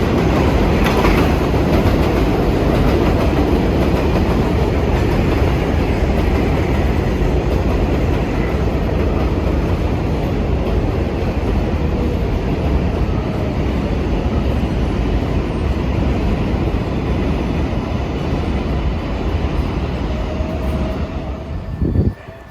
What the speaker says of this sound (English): There is a local 7 train to Flushing Main Street approaching the station.